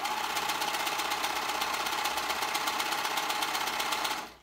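Serger sewing machine stitching fabric for a women's tee dress, a steady rapid mechanical whirring hum running close and continuous for several seconds, then cutting off at the end, with no talking.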